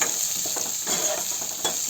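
Dried red chillies, onion, green chilli and curry leaves fry in oil with a loud, continuous close-up sizzle and hiss, broken by occasional stirring scrapes, with no talking.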